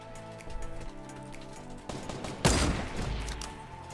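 Shots fire in a Fortnite match, with a loud burst of gunfire midway through the clip over game ambience and music.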